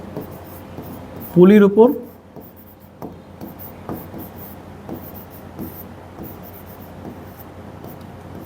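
Marker or chalk strokes on a classroom board during a physics lesson on pulleys, a series of short scratchy taps and rubs spread across the clip, heard close under a man's speech, with a brief louder voice near the start.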